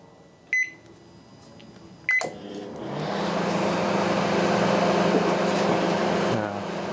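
Trash-picked Panasonic microwave oven switched on at high power: two sharp beeps, then a steady hum and fan whir running for several seconds before cutting off.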